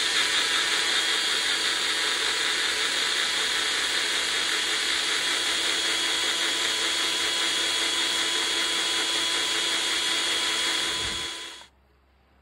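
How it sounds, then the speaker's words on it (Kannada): A kitchen mixer grinder whirs loudly and steadily as it blends baby food with a little hot water, a constant high motor whine that runs unbroken before cutting off abruptly near the end. "ಮತ್ತೆ ಇದನ್ನು ಕ್ಲೋಸ್ ಮಾಡಿ ಮತ್ತೆ ತಿರ್ಗಾ ಮಿಕ್ಸಿ ಮಾಡ್ಕೋಬೇಕು"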